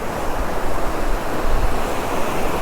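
Water rushing at Ekayam waterfalls in Idukki during the monsoon, a loud, dense, continuous roar of flowing water with no break and no voices.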